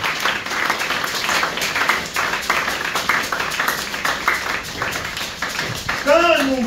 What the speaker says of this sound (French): Acclamons très fort pour la gloire de notre Dieu.